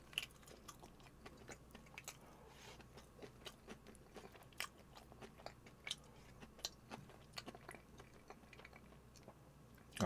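Close, crisp biting and chewing of homemade Korean chives japchae in a quiet mukbang setting, with irregular crunchy and moist mouth sounds repeating throughout and no talking.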